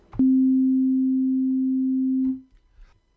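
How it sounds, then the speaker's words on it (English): A synthesizer plays a single steady, pure sine-wave tone at one pitch for about two seconds, then stops abruptly, leaving near silence. "we've just got a single frequency selected, which gives us just a flat sine wave"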